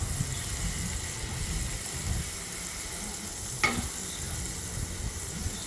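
Smash burgers frying on a flat griddle top, a steady broadband sizzle throughout with a single sharp scrape of a spatula partway through and faint stirring and clatter.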